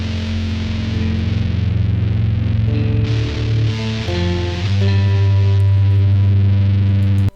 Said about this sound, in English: with tons of distortion, a humbucker pickup, and that's kind of like the main riff